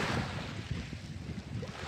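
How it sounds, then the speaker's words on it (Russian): A calm sea on the Abkhazian coast with no real waves, heard as a soft, steady wash of water and low wind rumble, continuous and even throughout. "Спокойное море."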